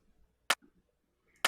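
A textural 909-style clap layer for a house track remake strikes twice, about a second apart, each a crisp, bright, short burst, with faint soft noises in between and no voices.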